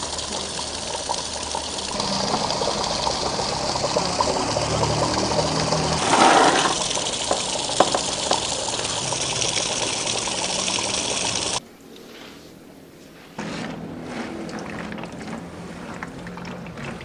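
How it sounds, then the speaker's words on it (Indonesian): Running water pouring over coffee beans being washed during coffee processing, a continuous loud gushing rush. It shifts in tone partway through, drops briefly near the end, then resumes. No voices are heard. "Proses pencucian biji kopi dilakukan selama 7 kali di bawah air mengalir"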